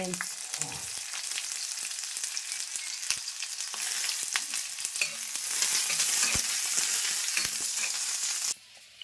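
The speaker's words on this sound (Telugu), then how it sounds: "ఫస్ట్ పచ్చిమిర్చి వేపుకుందాం, ఆయిల్ తర్వాత వేద్దాము" Green chillies frying in hot oil in a pan, a dense, continuous crackling sizzle with scattered stirring clatter, close and loud, swelling briefly before cutting off near the end.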